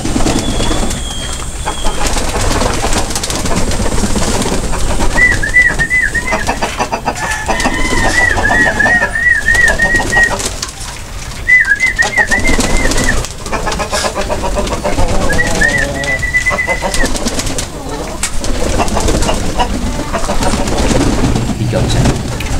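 Pet pigeons cooing in a crowded loft with eggs laid on the floor, repeated warbling coos over constant dense background noise, with other bird sounds and some voices mixed in.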